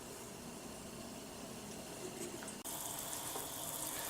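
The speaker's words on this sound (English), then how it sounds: "we just want to pour this chicken stock into this pot that I have warming on high heat" Chicken stock pours from a container into a pot warming on high heat, a steady liquid splash that briefly cuts out and then resumes more brightly, close by and without speech.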